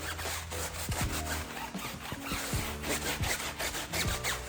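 A brush scrubs a car tire with tire cleaner, giving loud rhythmic rasping strokes about two per second with gritty scraping throughout, close up and with no voices.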